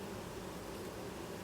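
Honey bees buzzing during a hive inspection, a dense continuous drone that is steady and close, with no talking.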